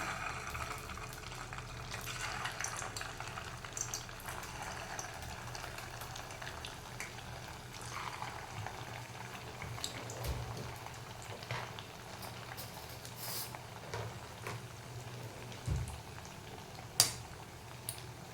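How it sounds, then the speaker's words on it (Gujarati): Semolina tikkis fry in hot oil over medium-low heat, a soft continuous bubbling hiss with faint clinks from the pan, heard alone. "હવે આપણે એને તળી લઈએ"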